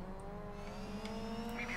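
Rally car engine in the DiRT 3 racing game, a brief steady droning engine note with a rising pitch, moderately loud, without talk.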